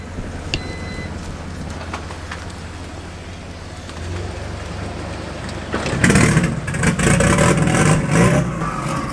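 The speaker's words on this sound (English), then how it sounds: "You kind of have to play with the throttle right now to keep the idle high because it keep wanting to cut off" Turbocharged Honda Civic drag car engine with an unstable, low idle, running roughly under blips of throttle and then revving louder and harder for the last few seconds, heard close in an outdoor setting.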